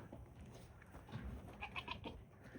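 Goats, a light-colored doe and a darker buckling, bleat on a small five-acre farm in springtime, with a few moderately loud calls rising over soft outdoor background noise.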